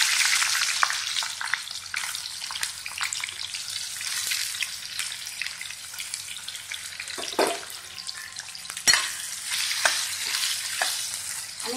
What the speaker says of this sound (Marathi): आणि वांगी छान भाजून घ्यायची.